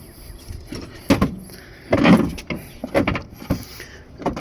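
Front strut being slowly pulled out of a 2014-2019 Kia Soul, close metallic scrapes, clunks and a brief squeal, scattered irregular knocks with quiet gaps.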